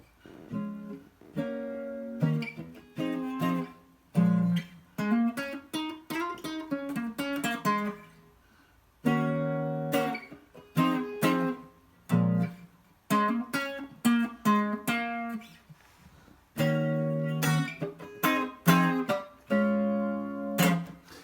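A jazzy electric guitar with a chorus effect plays chords and short melodic runs from a song, in soft phrases separated by brief gaps, close and alone.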